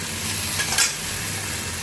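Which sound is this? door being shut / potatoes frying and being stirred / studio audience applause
potatoes frying and being stirred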